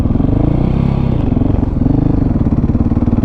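A dirt bike engine runs loud and close, a steady throbbing rev that dips briefly mid-way as a gear is shifted, then pulls on again.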